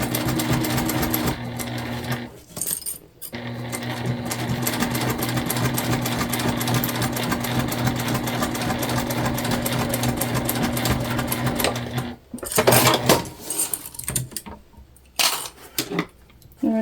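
A sewing machine stitches a leopard-print tote bag in loud continuous bursts, with short pauses and handling noises between runs.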